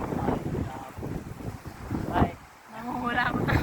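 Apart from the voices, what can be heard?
wind blowing at seaside park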